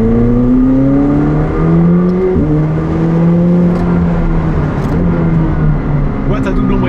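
A McLaren 765LT sports car engine with a seven-speed dual-clutch gearbox revs gently and steadily, its pitch sliding up and down in long, loud smooth sweeps.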